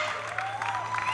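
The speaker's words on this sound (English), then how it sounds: "Big applause!" Brief, fairly faint applause from an audience at a coffee festival competition, a soft wash of clapping lasting about a second under a speaking voice.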